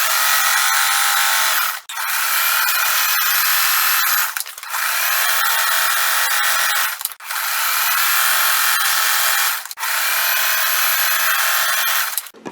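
A sewing machine stitches up and down through a Rite Aid newspaper flyer, running loud and close in four long continuous bursts separated by brief pauses.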